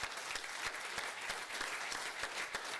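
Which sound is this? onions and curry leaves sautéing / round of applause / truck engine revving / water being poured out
round of applause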